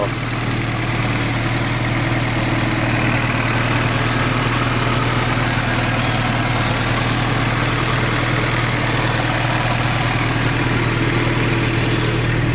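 A 1988 Porsche 944 Turbo four-cylinder engine idles steadily and loudly up close, a constant low droning hum that holds unchanged throughout.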